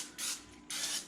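Two short hissing bursts of olive oil spray onto a chicken being prepped for smoking, close and fairly quiet, separated by a brief pause.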